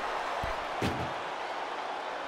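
An ambulance door slams shut once in WWE 2K24 during an ambulance match, a single sharp thud set against steady background noise.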